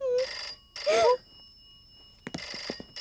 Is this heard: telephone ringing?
yes